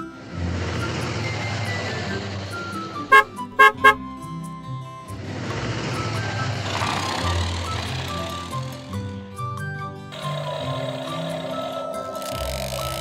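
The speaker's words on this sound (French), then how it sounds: "Le camion peut partir." A cartoon truck pulls away with a rising engine drone over cheerful background music, punctuated by a few short, bright horn toots in quick succession, then the motor fades as the music carries on.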